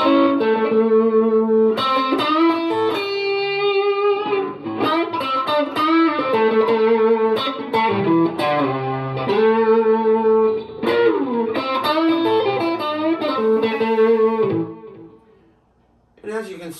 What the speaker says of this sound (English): I'm going to start with the neck pickup with a little bit of overdrive and a little reverb.